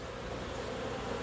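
Bees swarming in, a steady, dense insect buzz that stays loud and even throughout with no pauses.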